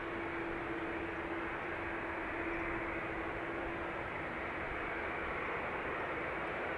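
A jet taking off from runway 28 right at Dublin Airport: a steady, distant broadband engine roar that holds at an even level throughout, with no one talking.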